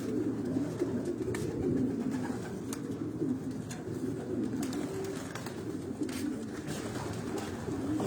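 Racing pigeons coo softly and continuously in a loft, with a low, throaty murmur from several birds over a steady background hum and a few faint knocks.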